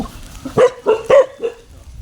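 Rescued stray dogs taken from the forest let out four short, sharp barks at close range, evenly spaced with quiet gaps between.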